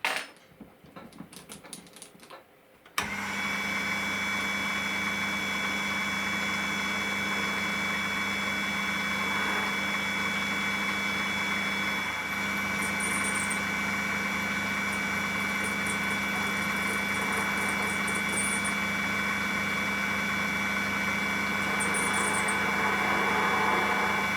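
A lathe turns a mixture needle for a 3.5cc Mikro Std 1965 diesel engine using aluminium carbide inserts, giving a steady loud machine drone with a high whine and faint intermittent squeaks, after a brief clattering start.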